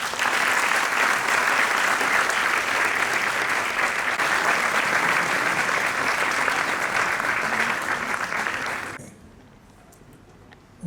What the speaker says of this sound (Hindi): तो इनके लिए ज़ोरदार ताली बजा दीजिए।